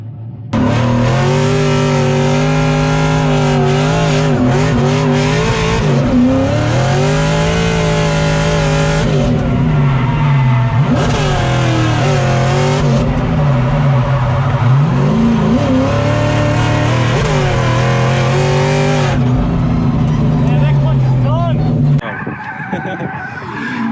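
A Mazda Miata race car's engine roars steadily at close range on the Seneca Circuit track, revving up and down through gear changes, with brief tire skids and a sudden cut near the end.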